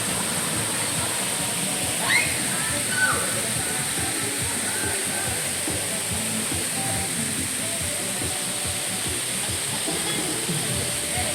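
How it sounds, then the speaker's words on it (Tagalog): A waterfall at Maticdom, Tandag City, Surigao del Sur pours in a steady, dense roar of rushing water that fills the whole stretch without a break. A few faint sounds are buried under it. "May busay."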